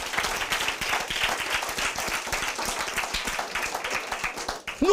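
A church audience applauds and cheers for Jesus at a Christian gathering, with dense, steady clapping from many hands carrying on evenly and filling the room throughout.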